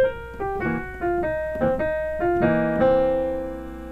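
A piano plays a short four-part blues lick, a quick run of distinct notes and chords in a jazzy rhythm that ends on a held chord fading out, played alone with no talking.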